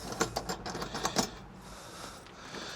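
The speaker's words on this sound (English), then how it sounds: "We're going to hand tighten it right now." Hand tightening a bolt down onto the compression spring and washer of a Pentair pool cartridge filter gives a short run of close, faint ratcheting metallic clicks and rattles in the first second or so, then quiet.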